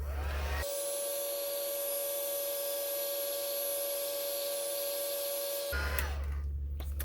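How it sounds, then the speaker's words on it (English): A heat tool on its lowest setting blows steadily for about five seconds while drying salted paint for a background, a constant whirring hum that starts and stops abruptly, close and alone with no talking. "I'm gonna just put my heat tool on the lowest setting and dry this really quick for us."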